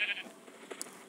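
A farm goat gives one short, quiet, high bleat at the start, followed by faint low rustling.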